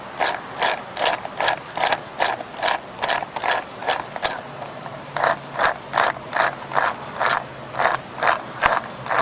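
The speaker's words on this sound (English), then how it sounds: "Go ahead and tighten this one up." A ratchet wrench tightens the nut on a BMW 7 Series cooling pipe fitting, a steady series of close, sharp ratcheting clicks in regular strokes with a short pause midway.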